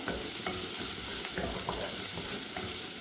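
Onions and garlic softening in oil in a cooking pot, a dense continuous sizzle broken by repeated scraping clicks of stirring, close and loud with no talk.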